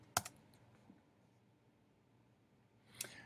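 A password being typed on a computer keyboard: a faint, quiet run of a few scattered key clicks, with a small burst at the start and another near the end.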